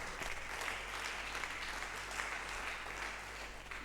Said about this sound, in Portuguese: Oh, uma salva de palmas.